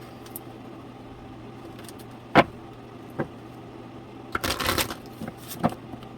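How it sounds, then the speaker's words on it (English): Cards riffled and bridged in a short burst after a few isolated taps and clicks, close by in a quiet room. "So let me get a good shuffle"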